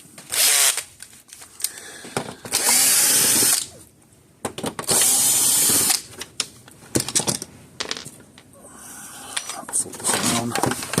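A power drill backs tamper-proof Torx screws out of a Gallagher M600 electric fence charger, several loud whirring bursts of a few seconds each with clicks and clatter between, and a voice speaking in the gaps.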